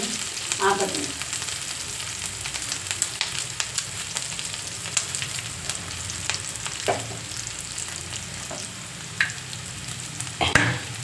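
Garlic frying in a pan for a simple home breakfast dish, a steady broadband sizzle with scattered crackles and occasional sharper pops, close and continuous with no talk over it.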